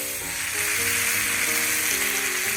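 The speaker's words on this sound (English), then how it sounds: "Let that sizzle away." Cold, dry cooked white rice sizzles loudly on a Camp Chef FTG600 flat top griddle, a steady close frying hiss running throughout with faint background tones and no talking.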